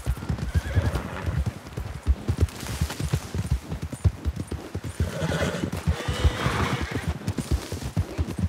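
A horse whinnies and its hooves clop steadily in Red Dead Redemption, with brisk close hoofbeats running throughout and a louder neigh surge partway through.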